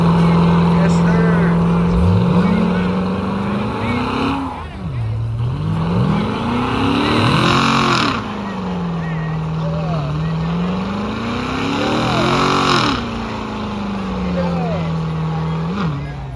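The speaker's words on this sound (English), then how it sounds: "Do a burnout in the vet." A Corvette does a burnout at a crowded car meet, its engine roaring loud and near in long sustained revs that rise and fall repeatedly, with onlookers shouting and talking over it.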